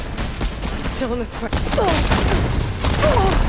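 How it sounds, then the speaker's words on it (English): A cannon fires repeatedly in combat in Horizon Forbidden West, its bursts of blasts rumbling under steady game noise while a voice speaks briefly over the barrage. "love this cannon!"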